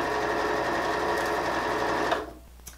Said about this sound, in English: then keep sewing and repeat that process until I'm all the way around the curve.